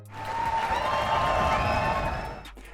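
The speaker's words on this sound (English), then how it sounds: "Let's give him a round of applause." Applause from a small audience after a presentation about a LEGO figure and the Mavic Air 2 drone's Quickshot modes, a steady near wash of clapping that swells and fades over about three seconds.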